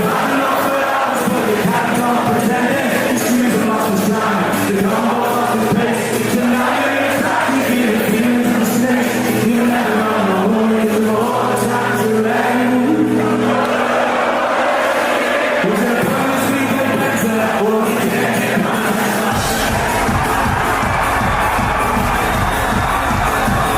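A crowd at a Glasgow gig goes wild, a dense roar of cheering and shouting over loud music that continues without break.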